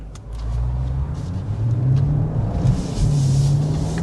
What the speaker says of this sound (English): we will be getting a hard acceleration first and foremost